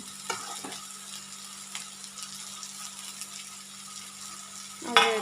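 Roasted capsicum (bell peppers) goes into a frying pan and is stirred, giving a soft, steady sizzle with a few light scrapes and clinks, then a louder clatter at the end. Nobody speaks.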